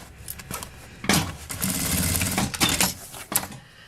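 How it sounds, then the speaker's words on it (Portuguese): A sewing machine stitches fabric for a small zippered cosmetic case, running in close, loud bursts of rapid needle chatter with short pauses between, and no one talking. "passo uma costura aqui pra segurar, pique com pique"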